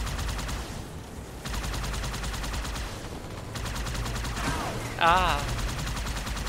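Sustained gunfire in the shooter game Halo 2, rapid continuous bursts with a brief pause, mixed with game effects and a short exclamation from a player.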